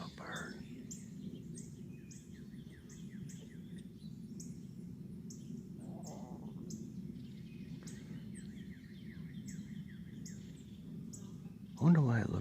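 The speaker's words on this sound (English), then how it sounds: "There's a bunch of birds in there." Small birds chirp and sing at a distance, faint high repeated calls over a low steady background hum, with a brief louder sound near the end.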